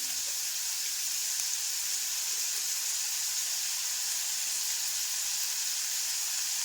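Onion and green chillies sizzle in tempering oil, with salt added, for vermicelli curd rice. A steady, even hiss of frying runs close and continuous without pause.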